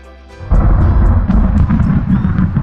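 Thunder in the Flight Simulator 2004 game hits as a sudden loud low rumble after a quieter start, then rolls on heavy and sustained, with no talking.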